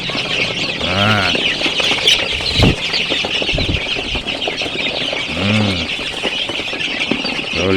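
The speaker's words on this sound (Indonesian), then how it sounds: "ini ada 100 ekor ayam." A flock of about a hundred KUB chickens clucks steadily at close range, with a few louder squawks rising out of the constant busy chatter.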